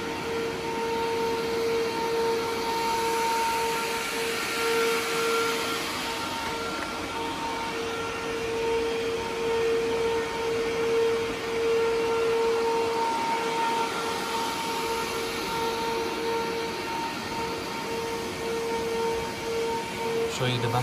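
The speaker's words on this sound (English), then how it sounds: "the server is now on. As you can see, it's a little bit loud. Again, we put this on high performance mode for the fans" A rack GPU server with eight NVIDIA Quadro RTX 4000 cards runs its cooling fans in high performance mode, giving a loud, steady, close whirring hum with tonal whine that holds unchanged throughout.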